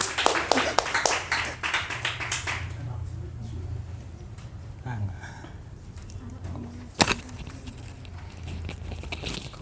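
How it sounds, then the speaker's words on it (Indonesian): A small audience at a book review event gives brief, scattered clapping to welcome two speakers, loud at first and then thinning out within a few seconds, followed by quieter room sounds and a single sharp tap. "Tepuk tangan dulu teman-teman."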